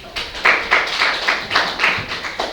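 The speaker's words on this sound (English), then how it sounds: "Give her a round of applause." A classroom gives a round of applause, several hands clapping in short uneven bursts that rise and fall, close and moderately loud with no talk over them.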